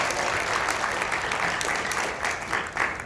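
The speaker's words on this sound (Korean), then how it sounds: "박수 한번 먼저 부탁드립니다." Audience applause at a talk or lecture event, dense continuous clapping at close range for about three seconds with no speech over it.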